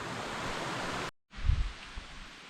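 Stream water runs along a nature preserve trail in Meduxnekeag Valley, a broad steady rush that cuts out briefly, then returns with a low thump and continues.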